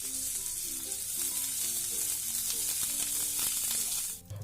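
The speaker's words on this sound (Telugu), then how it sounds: "అందులో 1 స్పూను నెయ్యి వేసుకుని నెయ్యి కాగిన తరువాత అందులో పోపు దినుసులు, ఎండుమిర్చి, చిటికెడు మెంతిపొడి, చిటికెడు ఇంగువ, కరివేపాకు వేసి దోరగా వేపుకుని" Mustard seeds and spices, dried red chillies, a pinch of fenugreek powder, asafoetida and curry leaves fry in hot ghee, giving a continuous close sizzle with scattered pops and crackles, no voices.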